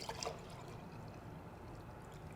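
Tap water poured steadily from a sink for a festive home activity, a continuous close splashing stream with an early brighter burst of pouring, alone without talk.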